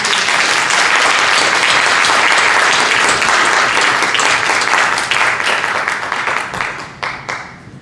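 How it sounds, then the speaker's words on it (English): A big graduation crowd gives loud, sustained applause for new nursing graduates, with dense clapping that fills the room and then thins out and fades over the last couple of seconds. "Please join me in giving them all a big round of applause."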